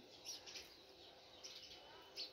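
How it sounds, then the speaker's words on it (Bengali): Small birds on a rooftop scattered with paddy give faint, brief chirps at intervals over a quiet background. "এই পাখিগুলো আসে।"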